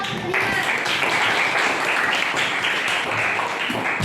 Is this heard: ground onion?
no